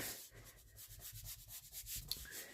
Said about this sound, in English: And again, give that a nice good rub.